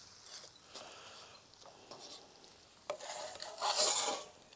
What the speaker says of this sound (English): And you want to fry up tomato paste,